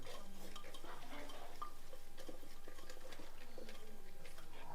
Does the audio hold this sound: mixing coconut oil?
yes